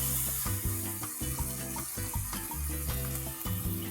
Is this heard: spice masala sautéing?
yes